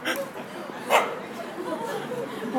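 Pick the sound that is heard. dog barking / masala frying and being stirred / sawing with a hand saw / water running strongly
dog barking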